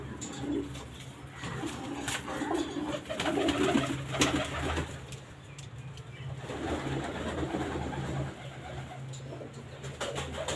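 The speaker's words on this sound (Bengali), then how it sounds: "সব ব্রিডিং পায়রা।" Many breeding pigeons, including Teddy, Kamagar and Golden breeds with young birds, coo in a busy loft, a steady overlapping chorus of low burbling calls with some rustling and faint wing movement nearby.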